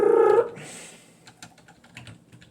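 A brief tone fades out, then a quiet run of rapid computer keyboard clicks while coding, light irregular taps close by.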